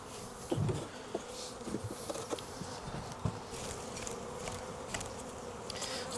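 Honey bees buzz in a dense, continuous drone as a hive is shaken out during a split. A few dull knocks and thumps from the boxes cut through the swarm, which sounds close and steady with no talk.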